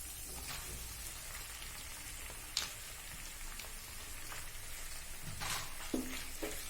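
Mutton fries in a pan for bhuna gosht with an even, hissing sizzle that crackles on throughout, plus a few brief knocks and clatters.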